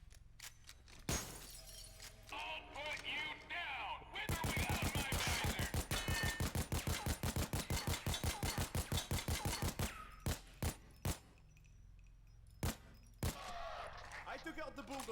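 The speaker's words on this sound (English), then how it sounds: "I'll do that again, but on a semi-automatic just to be given a proper range" A weapon firing semi-automatic in PAYDAY 2: a few isolated shots, then a long rapid string of evenly spaced loud reports mixed with glass shattering, followed by scattered single shots with pauses between.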